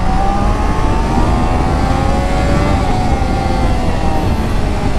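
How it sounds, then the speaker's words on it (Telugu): A Triumph Daytona 660 motorcycle accelerates on an open road, its engine note rising steadily in pitch over constant loud wind rush, sustained and close for several seconds. "సో మీరు యాక్సలరేషన్ చూస్తున్నారు కదా"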